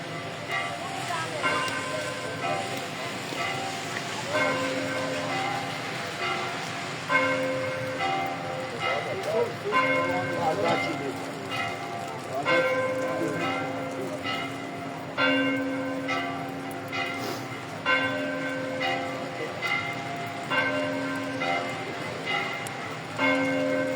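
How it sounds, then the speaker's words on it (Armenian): Church bells ring at Holy Saviour Church in a steady, repeating pattern, each strike leaving overlapping tones that hum on between hits, with faint voices underneath. "Զանգերը ղողանջում են միայն"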